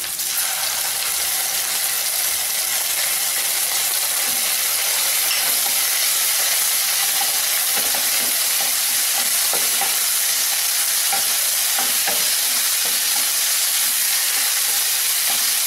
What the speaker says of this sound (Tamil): இஞ்சி பூண்டு விழுது கொஞ்சம் பச்சை வாடை போகட்டும்.